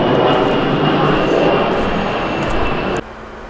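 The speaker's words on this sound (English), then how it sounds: "there's airplanes that are buzzing over every couple minutes" A loud, steady roar of an airplane passing overhead fills the air, then cuts off abruptly near the end.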